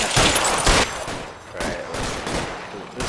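Gunfire in the video game L.A. Noire, a series of sharp bursts of shots, a few loud close cracks followed by more scattered fire.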